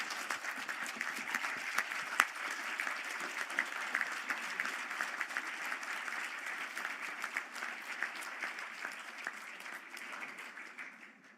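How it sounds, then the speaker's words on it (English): Graduates at a Galway conferring ceremony applauding their families, a steady, moderately distant wash of many hands clapping that tapers off near the end. "and give them a round of applause"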